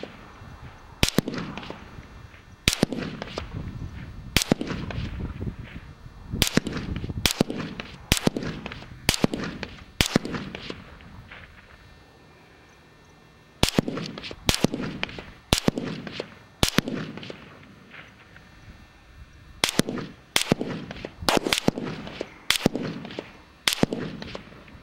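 Rifle shots fired during load testing for precision reloads, many sharp cracks in groups of roughly five with short gaps between, each with a brief decay, loud and without talk.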